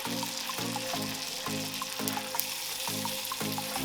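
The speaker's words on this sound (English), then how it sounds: "I just want to sear the rest of the sides like I was talking about" A wagyu ribeye steak sears in a hot pan, giving a steady close sizzle with a low, regularly pulsing hum beneath it and small crackles scattered throughout, with no voices.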